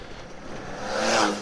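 A Ferrari sports car engine revs up, its roar swelling louder toward the end over a steady background rumble.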